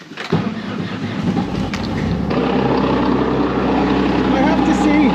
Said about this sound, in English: I'm going to warm up the Kawasaki.